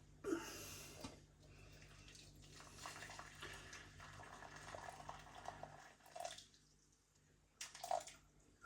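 Water runs into a Pyrex glass jug, measuring 300 millilitres, as a faint, uneven pouring and trickling with small clinks, close but quiet.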